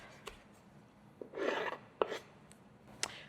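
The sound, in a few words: knife cutting apple peels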